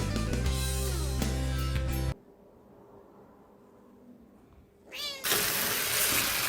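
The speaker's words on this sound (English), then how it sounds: "this little kitty, she too joined us, and she's here on the table" A cat meows in a long drawn-out call, then a stretch of near-silence, then another rising meow, all close to the ear.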